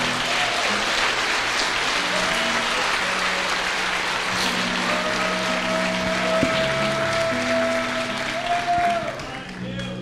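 Church congregation applauding during a Sunday morning service, a steady wash of clapping held at even loudness for the whole stretch, with sustained organ or keyboard tones and scattered voices mixed underneath.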